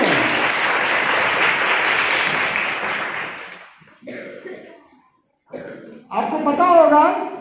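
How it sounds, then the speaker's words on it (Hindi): Audience applause at a National Science Day programme in Banda, several seconds of full, steady clapping that fades out, followed by a voice speaking. "आपको ताली बजानी चाहिए एमएससी में।"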